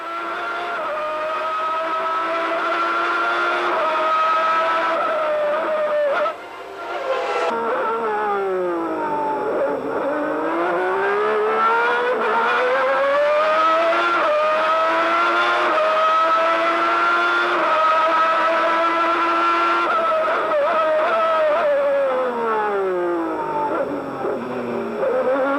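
Formula 1 race cars from 1991 scream past at high revs, the engine pitch sweeping up and down through gear changes and corners, loud and sustained as cars approach and pass.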